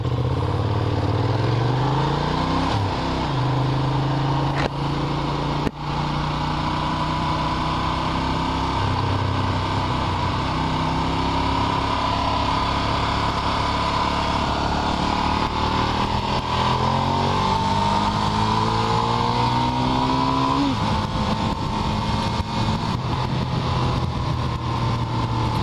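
A Ducati Diavel motorcycle carrying a passenger roars along at speed, its engine loud and close throughout, with rising and falling pitch as the rider shifts through gears and accelerates, wind rushing over the constant drone.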